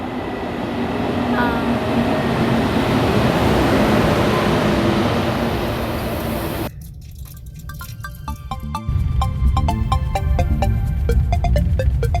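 A subway train ride: a loud, continuous rumble from the moving car, then a quieter stretch with ringing tonal chimes, before the heavy rumble returns.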